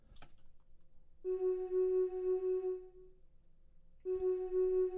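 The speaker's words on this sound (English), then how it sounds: "I wanted a vocal chop" Choir ooh-ah vocal chop from Xenology played dry with no effects, a sustained sung tone entering after a short click, holding for about two seconds, then returning near the end, moderately quiet.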